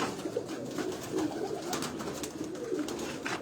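Kabli pigeons coo on a large rooftop loft in Karachi, soft repeated throaty coos from several birds close by over a steady background hum.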